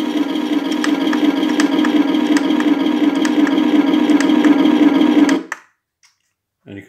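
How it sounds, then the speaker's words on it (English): Heng Long King Tiger RC tank's electronic engine sound effect, a steady loud idling rumble with faint periodic clicks, running for about five seconds and then cutting off abruptly, leaving near silence with a faint brief noise at the end. "When it says change the sound effect, you would think it would be like a different exhaust engine note"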